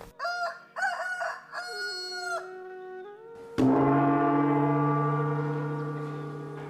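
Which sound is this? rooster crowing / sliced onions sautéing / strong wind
rooster crowing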